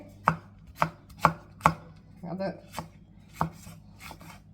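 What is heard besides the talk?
knife cutting food into round slices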